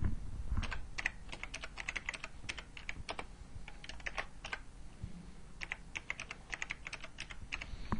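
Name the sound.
typing text on a computer keyboard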